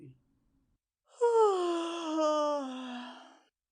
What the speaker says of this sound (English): Imogen yawning in a perfunctory way.